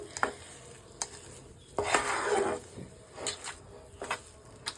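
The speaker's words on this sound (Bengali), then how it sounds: "এবার এটাকে মিশিয়ে নিতে হবে খুব ভালোভাবে" A spoon stirs and scrapes a sweet mixture with melting sugar in a kadai, giving intermittent close scraping and clinking strokes with short pauses between them, over a faint background hiss.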